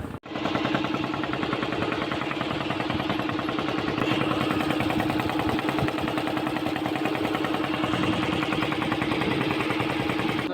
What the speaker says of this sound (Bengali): এই নৌকাটা হচ্ছে আসছে, ওই একটা নৌকা ছেড়ে চলে গিয়েছে আর একটা আসছে